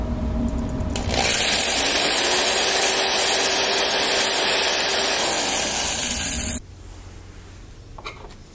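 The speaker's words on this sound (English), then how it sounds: "I will now drill a hole through the wooden lid to the Leiden jar" A power drill whirs steadily at close range for about five seconds, its high-pitched motor grinding through a Leiden jar's wooden lid, then cuts off abruptly, leaving a quiet room.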